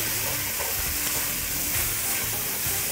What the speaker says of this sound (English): You hear that? Yeah, the sizzle, that's the best.